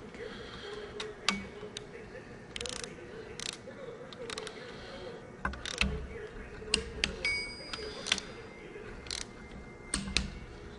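A torque wrench clicks sharply and repeatedly while bolts on a Caterpillar 3406 engine's front geartrain are tightened to 45 foot-pounds, the distinct snaps spaced out over a low workshop background.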